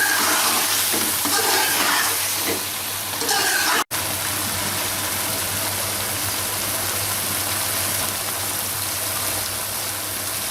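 Chicken for Lahori butt karahi frying in fresh homemade butter, a dense continuous sizzle close to the pan, with a brief cut partway through, no talking.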